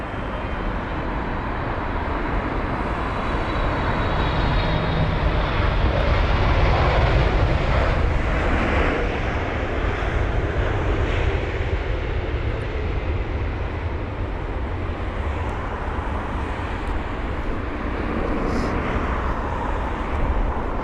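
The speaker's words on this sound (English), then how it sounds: "That was LATAM Airlines using the 777." A LATAM Airlines Boeing 777 at London Heathrow gives off a loud, broad engine roar that stays steady and near for about twenty seconds, with no voices over it.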